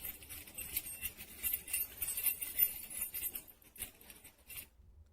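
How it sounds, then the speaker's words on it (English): Keys jingle and jangle in a pocket, a soft, busy patter of small metallic clinks that rustles on for several seconds before cutting off, fairly quiet and close, with no voices. "or maybe keys in a pocket."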